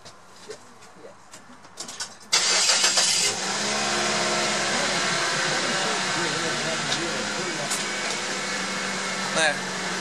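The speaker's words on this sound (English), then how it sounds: "start up the engine." A car engine starts up during a drum brake check, a sudden loud catch after brief cranking that settles into a steady idle hum, with voices faint in the background.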